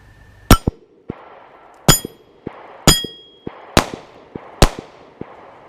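A Hi-Point C9 pistol fires Winchester white box 115 grain ammunition: five sharp, loud shots at roughly one-second intervals, each followed by clinking of ejected brass.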